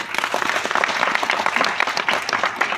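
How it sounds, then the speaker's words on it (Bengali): Seminar audience clapping in sustained, dense applause throughout, loud and steady with many overlapping hands. "তার জন্য অনেক জোরে আমরা হাততালি চাই।"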